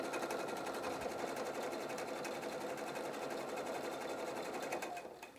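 A Pfaff creative 4.5 sewing machine stitches steadily, with a fast, even mechanical whir at close range that runs almost the whole time before winding down at the end.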